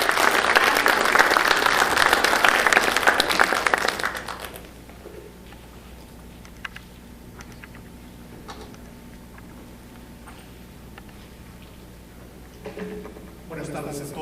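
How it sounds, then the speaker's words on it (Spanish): A conference audience applauds loudly for about four seconds, dense clapping that cuts off abruptly and leaves a quiet room with faint shuffles and a voice near the end. "Un fuerte aplauso por ahí, por favor."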